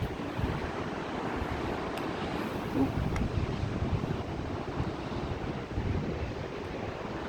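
Ocean surf washes steadily about 180 metres below a sea cliff, a continuous distant roar heavily buffeted by wind noise on the microphone.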